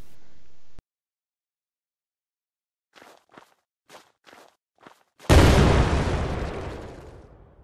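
In the video game Genesis, a few quiet footsteps lead up to a C4 charge detonating in one sudden loud blast whose rumble slowly fades away.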